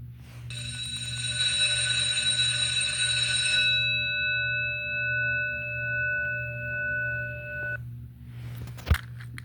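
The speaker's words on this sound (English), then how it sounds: "And there's the bell again." An electronic bell rings with a steady, sustained multi-tone chime that cuts off partway through, then a fainter tone lingers before a single sharp click, all over a low constant hum.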